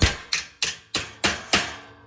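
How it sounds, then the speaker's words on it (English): A hammer strikes an extra piece of metal into a welded split bar for an outdoor kitchen, six sharp ringing blows at a steady beat, each fading quickly before the next. "we'll go ahead and hammer in that extra piece of metal"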